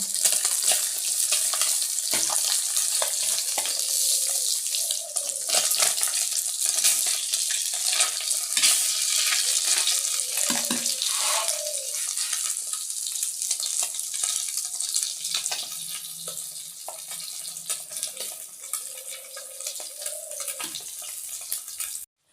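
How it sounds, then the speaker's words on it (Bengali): Fish frying in a pan for a home-cooked meal: loud, continuous close sizzling and spitting oil with occasional clinks, running steadily throughout. "এদিকে আমি মাছ এই যে ভাজতে দিয়েছি"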